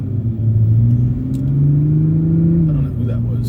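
A passing car rumbles by, heard from inside a Supra, its low engine drone holding steady and then shifting pitch over a few seconds.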